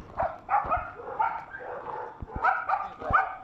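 Several dogs bark at night in quick, uneven bursts, some yips and whining mixed in, fairly close and moderately loud.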